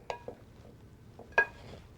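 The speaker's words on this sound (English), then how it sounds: "I'm going to add the sausage to the mushrooms and the caramelized onions. I'm going to stir this around" A spoon stirs sausage, mushrooms and caramelized onions in a pan, giving a few quiet scraping clinks and light knocks, one sharper clink near the end, over a faint low background.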